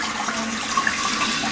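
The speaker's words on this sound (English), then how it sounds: "so let's see if it flushes" An old American Standard wall-hung toilet flushes with a strong, steady rush of water that holds even and loud throughout, with no talking.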